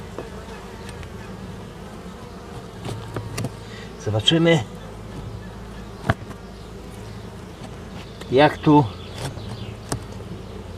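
Honeybees buzz steadily in an opened hive, a constant faint drone with a couple of louder bursts as bees pass close, while someone speaks briefly over it.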